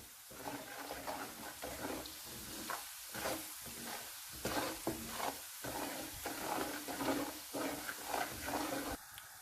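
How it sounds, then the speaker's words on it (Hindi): Spices, turmeric and salt frying in a pan for stuffed bitter gourd, a steady moderate sizzle with scraping stir strokes at an irregular rhythm, close by, with no talk. "इन सारी चीज़ों को थोड़ी देर तक के लिए फ्राई करेंगे"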